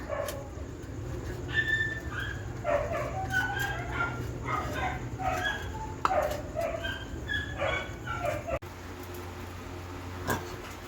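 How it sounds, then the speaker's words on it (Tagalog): Several dogs bark and yip excitedly, overlapping one another at close range over a steady background hum. "nag-iingay na yung mga aso kasi nakita nila nagpakain si Fernan."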